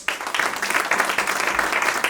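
Audience applause at a women entrepreneurs' graduation ceremony in Nakuru, Kenya: a steady, dense wash of many hands clapping, sustained and fairly loud throughout with no pause.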